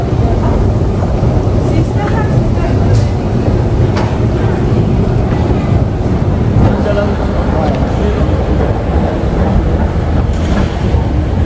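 A train pulls in with a loud, continuous rumble and roar, buffeted by wind noise, while people talk nearby.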